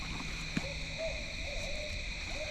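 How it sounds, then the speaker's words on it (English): An owl hoots softly in a series of low calls at a wooded New York hunting property, set against a steady hum of evening insects and faint ambient noise. "There's the owl on cue."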